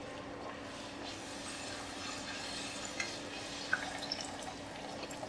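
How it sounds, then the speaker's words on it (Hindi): Pani puri (golgappa) shells fry in hot oil with a soft, continuous sizzle, quiet and steady, with a few faint pops and clicks. "उसके बाद हम इसमें जो हमने भेल के रखे हैं गोलगप्पे वो फ्राई करेंगे"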